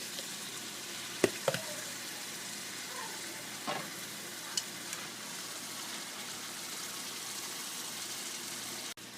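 Chicken and spices frying in oil in a pan, a steady soft sizzle running throughout, with a few brief stirring clinks and knocks, no talk.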